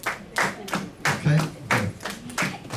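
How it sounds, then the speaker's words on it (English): A group claps a steady, close two-beat rhythm for the Panamanian tamborito folk dance, with sharp, evenly spaced claps and some voices faintly underneath. "You want to show them the way to clap?"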